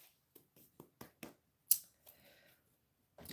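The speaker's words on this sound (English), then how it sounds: "So I'm just shuffling the cards." Tarot cards shuffled by hand, a handful of separate dry flicks and riffles spaced irregularly, close and fairly quiet against near silence, with no speech.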